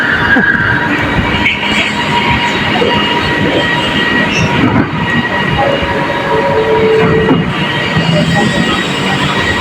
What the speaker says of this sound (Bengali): দেখেন এখন কিন্তু আমরা মাটির নিচ দিয়ে যাচ্ছি ট্রেনে